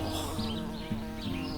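A bee buzzes steadily and close throughout a short cartoon adventure scene, a continuous droning hum that shifts slightly in pitch, with no talking over it.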